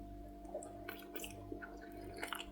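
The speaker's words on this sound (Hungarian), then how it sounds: "És most nagyon otromba módon én bele fogok harapni." Fried bread roll being bitten and chewed close up, soft crunchy bites followed by moist, squishy chewing at a quiet level over a steady low hum, no talking.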